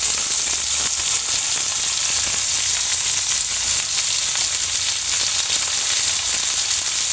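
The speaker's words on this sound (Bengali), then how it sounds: "তো আমি এখন এটাকে ভালো করে ভেজে নেব।" Beef sizzles and fries steadily in a hot pan with garlic, ginger and chopped onion, a dense, continuous crackle held at close range and at even loudness throughout, with no talking.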